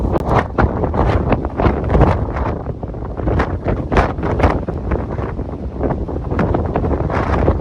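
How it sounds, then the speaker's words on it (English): Strong, gusty wind buffets the microphone on an exposed hilltop after a storm, roaring steadily with rapid irregular bursts throughout and no voices. "It's pretty blowy up here right now."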